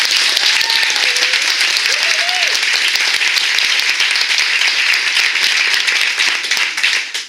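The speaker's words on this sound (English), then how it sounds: "please give them a round of applause" Steady applause from an awards-event audience honoring the events committee, a dense wash of clapping that holds evenly for several seconds and fades near the end, with a voice briefly audible beneath it.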